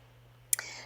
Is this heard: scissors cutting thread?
yes